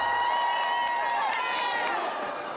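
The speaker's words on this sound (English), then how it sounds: "The crowd is going crazy." Loud, continuous crowd cheering at an urban downhill mountain bike race in Valparaíso, a dense wash of shouting and whistling voices that holds steady throughout.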